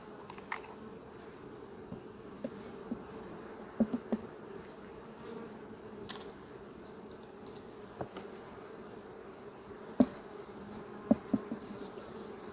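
Honeybees buzz steadily around hive frames at an apiary, a dense continuous drone with a few sharper individual buzzes passing close by, no talk.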